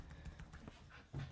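Dogs wrestling and playing indoors make faint scuffling, soft growls and whimpers, low and muffled in the background, with a brief louder thump near the end and no speech.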